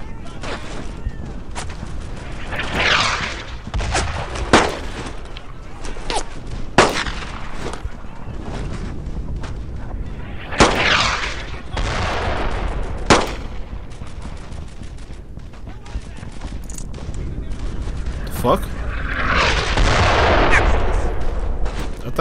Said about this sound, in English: There's probably a mortar somewhere over here.